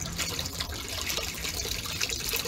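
Water trickles and gushes steadily while filling homemade solar heater panels, a faint, continuous splashing flow heard alone.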